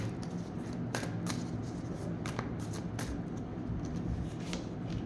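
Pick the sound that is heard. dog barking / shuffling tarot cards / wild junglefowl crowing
shuffling tarot cards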